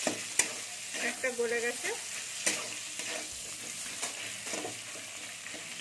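A spatula stirs mango pieces and vegetables in a hot pan for a sour mango and eggplant curry. Irregular clattering scrapes run over a steady sizzle, with a brief voice speaking early on.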